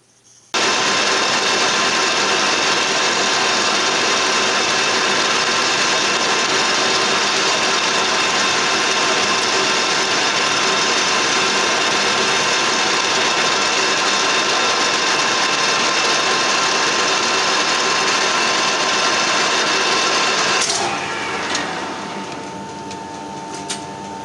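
A metal lathe turns down a case-hardened steel damper rod, a loud steady machine drone with whining tonal hum running continuously for about twenty seconds before the cut ends and the sound drops, no talking.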